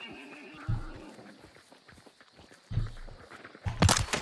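A horse in the video game Hunt: Showdown snorts and whinnies amid faint hoof steps, with several louder bursts spaced a few seconds apart over a quiet game ambience.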